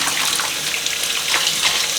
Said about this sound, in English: Nice light rinsing.